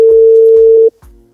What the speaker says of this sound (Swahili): Naenda kumpigia simu aokote.